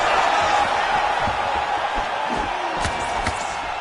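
Capacity arena crowd at a UFC fight roaring and cheering on its feet, a broad sustained wash of noise with a few sharp whoops and slaps rising out of it near the end.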